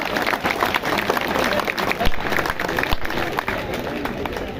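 Striking Punjab government employees at a protest clapping to welcome a school teacher to speak, a dense, lively burst of many hands with crowd noise mixed in, steady and close.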